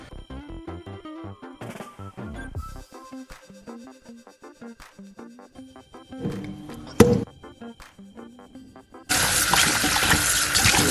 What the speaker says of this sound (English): Go ahead and give that a nice wash before I put the seasoning on there.